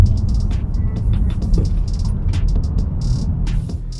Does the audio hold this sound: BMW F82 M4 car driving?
yes